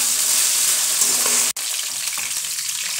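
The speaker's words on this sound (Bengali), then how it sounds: "এবার আমি এর মধ্যে ফুলকপি দিয়ে ফুলকপিগুলো অল্প করে ভেজে নেব।" Cauliflower pieces sizzle in hot oil in a pan with fried ginger and garlic for Indo-Chinese vegetable fried rice, a steady close hiss broken by one brief scrape or stir.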